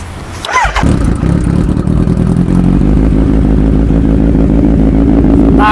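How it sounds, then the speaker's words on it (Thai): A 2020 Kawasaki Z900 four-cylinder motorcycle engine cranks and catches, then settles into a loud, steady idle with a busy, rapid mechanical rumble, heard up close. "เรามาสตาร์ทฟังเสียงกันคันนี้"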